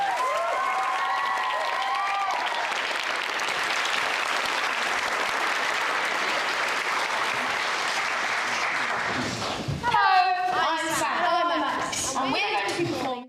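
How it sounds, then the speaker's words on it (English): An audience gives sustained, dense applause for performers at a Shakespeare performing competition grand final, and a voice begins speaking as the clapping dies away near the end. "Give them a round of applause."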